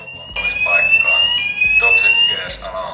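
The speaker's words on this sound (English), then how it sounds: "You will hear the siren and a spoken announcement in Finnish and English." A cleanroom toxic gas alarm siren holds a loud, steady high tone with a pulsing pattern, while a spoken announcement plays over it throughout.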